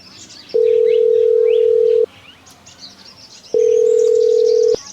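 A telephone ringback tone heard as two long steady beeps separated by a pause, loud and close, with birds chirping faintly in the background of a village setting.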